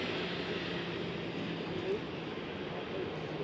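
A Qatar Airways Boeing 777 touching down at Amsterdam Schiphol, a steady broad engine roar heard from a distance that swells slightly midway.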